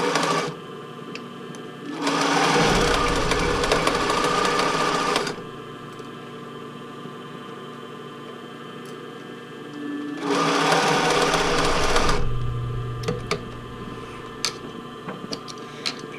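A domestic sewing machine with a broken presser-foot lift stitching a tankini, running in two steady bursts of several seconds each, separated by a quieter pause with faint handling noise.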